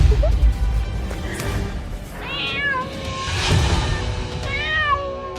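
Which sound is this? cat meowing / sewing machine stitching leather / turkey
cat meowing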